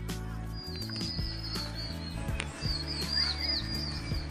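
Birds chirp and tweet in short bright calls outdoors in an autumn hiking forest in South Korea, scattered over a steady low mechanical hum.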